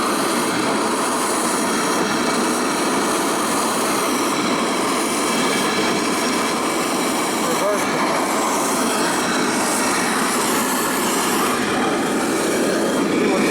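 A 1920s Erie steam shovel engine running after years idle, a loud continuous chugging and hissing rumble with metallic clatter that holds steady throughout, with someone talking briefly over it.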